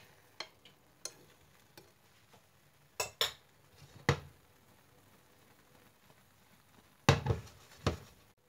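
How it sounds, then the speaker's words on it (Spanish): A fork scraping and tapping against a frying pan while loosening the edges of a setting spinach omelette, a series of scattered sharp clinks and scrapes over a quiet, faint background. "Con un tenedor iremos soltando los bordes que se van pegando a la sartén."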